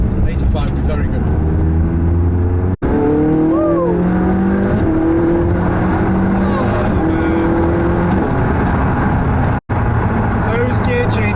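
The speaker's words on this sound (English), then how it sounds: "Those gear changes are so quick" McLaren 675LT engine pulling hard through rapid upshifts, each change cutting in quickly before the revs climb again, loud and close from inside the cabin, with people talking over it.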